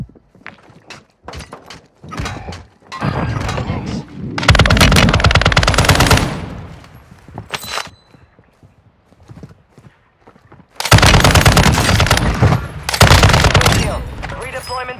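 Heavy bursts of automatic gunfire and sharp shots from a Call of Duty Warzone 2 Resurgence match on Ashika Island, loud and close, arriving in several long volleys separated by brief lulls with scattered single clicks and impacts.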